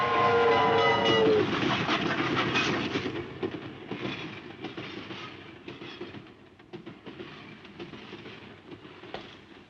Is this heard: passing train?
yes